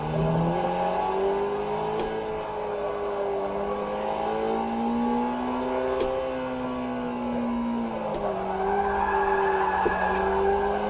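Engine note of a racing car in a racing video game, driven on a Playseat Challenge seat, steady and loud throughout with shifting pitch as it revs, plus repeated tire skids and squeals, no talking.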